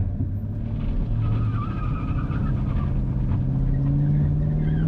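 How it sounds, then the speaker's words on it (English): A 2012 Camaro SS spins its tires in donuts, a continuous loud screech of rubber over a steady engine drone that climbs gradually in pitch throughout. "Then you can just start doing donuts like I was doing."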